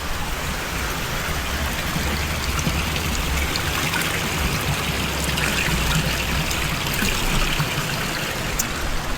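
Spring water trickling and splashing continuously on a hot day, a close, steady, even stream of babbling water with no breaks and no voices.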